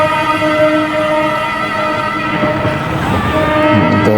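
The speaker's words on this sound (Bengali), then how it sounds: "এই ট্রেনটা নারায়ণগঞ্জের দিকে ছাড়ে আসলো, কমলাপুরের উদ্দেশ্যে যাইতেছে।" A train bound for Kamalapur rolls past a rail gate, a loud steady rumble carrying a sustained, tonal horn-like drone that swells toward the end.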